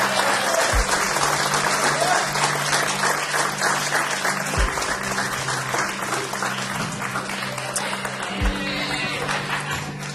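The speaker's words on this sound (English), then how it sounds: "We can clap for that." Wedding guests clapping after the first kiss at a Cellar 52 ceremony, a dense, steady round of applause lasting throughout, with a sustained low musical tone underneath and faint voices mixed in.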